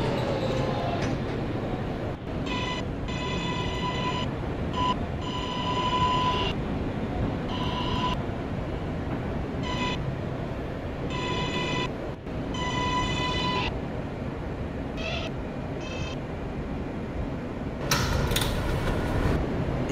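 An R143 N local subway train runs in a Roblox game, a continuous rumbling roll with rising and falling tonal whine from the motors, steady and close throughout.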